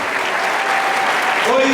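A church congregation claps in a broad, sustained wave of applause, and a voice speaks over it near the end.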